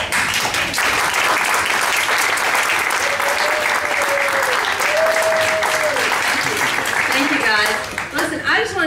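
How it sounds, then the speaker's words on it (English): Audience applause at a local Republican party meeting, steady dense clapping filling the room for most of the clip, with a few voices rising over it near the end. "Give her another round of applause."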